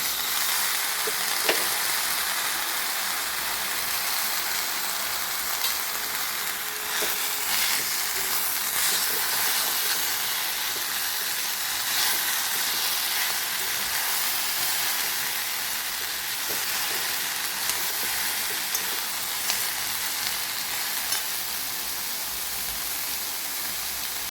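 Chopped tomatoes sizzling in a frying pan while cooking cauliflower sabji: a continuous close, even hiss of frying with occasional faint clicks, no talking.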